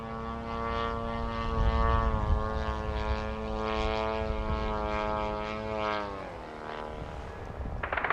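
A Russian drone flies over Kramatorsk, Ukraine, its propeller engine giving a steady, buzzing whine that holds level for several seconds, then dips in pitch as it passes.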